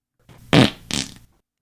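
Fart sound effect: two short, loud, sputtering blasts, the first stronger and the second a bit softer, alone against silence.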